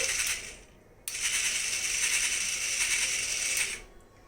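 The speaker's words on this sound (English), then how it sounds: "Look, this is the motor. It's going like this." A small motor in a student STEM project model runs with a steady, close mechanical whir and ratcheting gear chatter, starting abruptly after a brief pause and continuing evenly before cutting off near the end.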